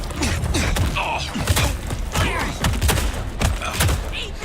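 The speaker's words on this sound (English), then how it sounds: "how do I fight a guy that is literally having a freaking automatic shotgun?" Rapid bursts of automatic shotgun fire ring out in the Bloodlines 2 video game, loud, overlapping blasts packed into a few seconds amid chaotic combat noise and thuds.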